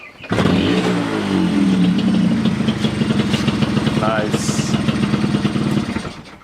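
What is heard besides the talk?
rebuilt motorcycle engine idling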